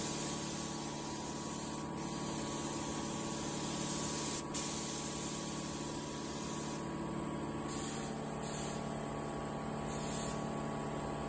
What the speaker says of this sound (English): Just finished spraying that fender. We still need to spray this one.